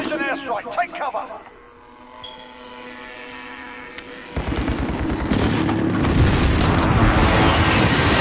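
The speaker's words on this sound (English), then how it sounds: "Enemy precision airstrike. Take cover." A precision airstrike in a PS4 video game: a brief voice is heard first, then a mounting wash of heavy explosions and roaring rumble builds and sustains loudly to the end.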